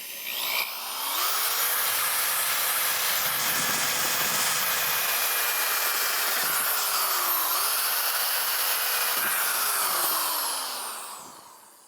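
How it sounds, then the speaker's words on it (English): A power drill bores holes in the corners of a keg cooler lid while mounting a Bottoms Up beer dispenser, a steady loud whirring hiss running continuously for about ten seconds with slight pitch dips under load. "now we want to drill 4 holes in 4 corners."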